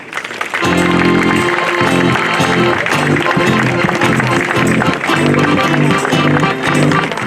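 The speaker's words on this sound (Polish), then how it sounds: "Poproszę o wielkie brawa i tusz!" Loud crowd applause with a brass fanfare at the opening ceremony of the intermodal container terminal in Krzewie, the music and clapping joined together and filling the clip after a brief quiet start.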